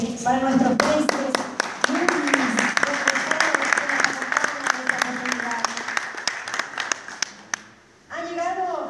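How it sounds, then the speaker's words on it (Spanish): Crowd applause at an outdoor folk dance event in Viacha, Bolivia: dense, steady clapping from many hands for about eight seconds, fairly close and loud, then a short pause before voices and clapping pick up again. "Un fuerte aplauso nuevamente para nuestros presentes"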